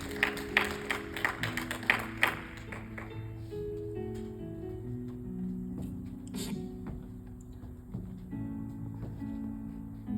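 A church congregation claps in a short burst of distinct, fairly close claps over sustained keyboard or organ chords, and the music then carries on alone after the clapping fades.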